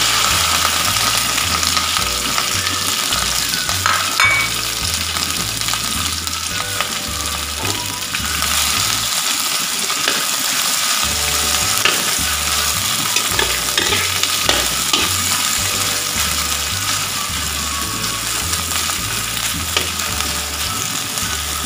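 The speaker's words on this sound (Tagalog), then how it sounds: "Ilagay ang nahiwang okra." Sliced okra fries in a pan for an okra omelet, a steady close sizzle broken by repeated scraping stirs. Background music plays throughout, and no one speaks.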